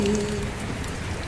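Rain falls steadily on a forested mountain ghat road during the monsoon, a soft continuous hiss of drops with a brief low tone near the start and no voices.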